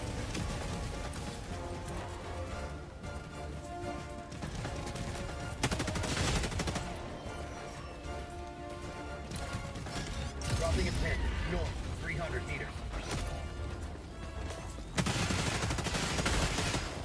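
Artillery cannon fire in the video game Helldivers 2 booms in repeated heavy blasts mixed with bursts of gunfire and mechanical clatter, sharp loud hits near 6, 10.5 and 15 seconds, while a player talks over the action.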